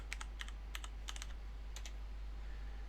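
Quiet bursts of keystrokes on a computer keyboard as a power off command is typed into a terminal, several quick clusters of clicks spread over a few seconds against a faint steady hum.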